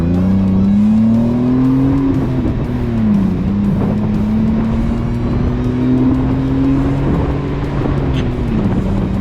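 A Jeep with bolt-on performance upgrades driving along a road, its engine droning loud and close from inside, pitch climbing and dipping with gear changes as it accelerates, with road and wind rumble underneath.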